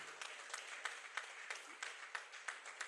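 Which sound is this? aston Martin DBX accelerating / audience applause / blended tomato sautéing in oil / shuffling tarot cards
audience applause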